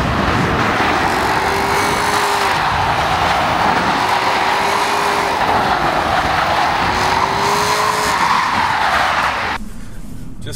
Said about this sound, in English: We are on ice and snow, snow tires, and let's see what this bad boy will do. Just floor it.